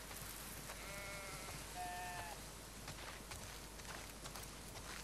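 Sheep on a farm in The Last of Us Part II give two short bleats close together midway, over a steady ambient hiss with faint footsteps.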